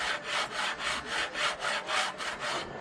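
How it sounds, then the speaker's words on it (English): A metal part being hand filed to size, about ten even back-and-forth rasping strokes in a steady rhythm, close and clear with no voices. "Filing away at hand cuts."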